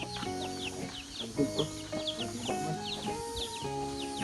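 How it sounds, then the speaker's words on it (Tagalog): A flock of chickens on a hillside farm clucks in repeated short, throaty bursts throughout, fairly close and steady, with no talking. "Yan mga manok."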